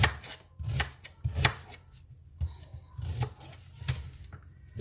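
Several quick knife chops through ginger, onion and spring onion land on a board in an irregular rhythm, close up and crisp, with soft rustling between strokes.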